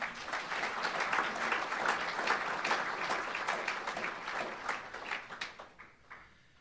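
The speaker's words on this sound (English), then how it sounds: "Let's give one more round of applause to all of these award recipients tonight" A room applauds award recipients at the 2014 Georgetown College Athletic Hall of Fame induction ceremony, a full, sustained round of many hands clapping that thins into scattered claps and fades out near the end.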